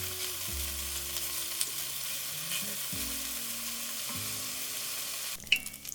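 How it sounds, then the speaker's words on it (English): Ham searing in a pot until brown for chicken pot pie filling, a steady close sizzle and fry with occasional stirring scrapes and a sharper clatter near the end. "I'll start by searing the ham a little bit until it's brown."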